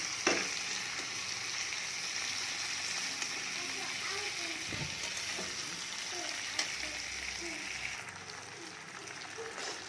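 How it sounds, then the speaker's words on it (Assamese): Taro sizzles and crackles steadily in a hot pan, a continuous close frying hiss with occasional stirring scrapes and no talking. "এয়া কচুখিনি মই এনেকৈ ভাজি ল'ম।"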